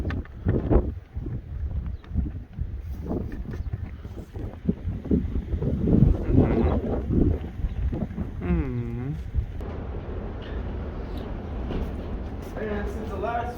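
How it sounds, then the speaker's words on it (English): Strong wind gusts buffet the microphone outdoors on a goat farm, a steady low rumble running under a person talking throughout. "It is a windy one out today. It's blowing all around."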